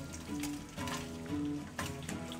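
Beef bacon frying in bacon grease and clarified butter, a close, continuous crackling sizzle with bright pops and spits running throughout.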